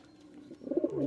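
Soft cooing from Kasuri pigeons, a low throaty burble rising in a short phrase, close by.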